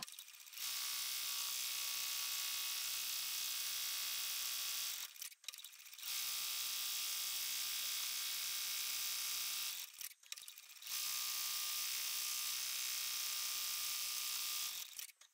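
A Ricoma TC1501 embroidery machine stitches a hat, giving off a steady rapid mechanical whir and ratcheting buzz. It runs in long continuous stretches, with two short pauses, and no one speaks.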